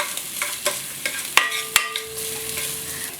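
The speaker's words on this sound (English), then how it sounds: "when you're sauteing, the same as before, make sure that you press the garlic" Garlic sautés in a pan for chicken adobo with coconut milk, a steady close sizzle broken by the quick scrapes and taps of a utensil stirring it.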